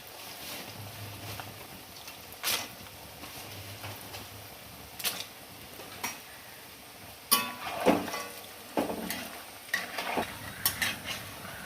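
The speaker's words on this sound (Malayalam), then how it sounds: "ഇനി നമുക്ക് ആ എണ്ണയിലേക്ക് വറക്കാനുള്ള കപ്പ ഇട്ട് കൊടുക്കാം" Soft hiss of tapioca frying in oil, broken by intermittent clinks and scrapes of a utensil against the pan, fairly quiet with no talking.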